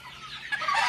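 Egg-laying hens that produce multicolored eggs cluck softly in a farm pen on a rainy day, a steady low chatter that grows a little louder toward the end.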